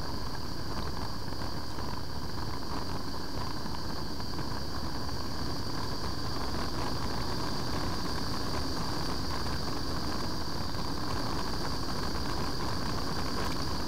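Kawasaki ZZR1200 motorcycle cruising in a high gear: a constant, dense engine drone blended with heavy wind rush, loud and unbroken throughout with no change in pitch or rhythm.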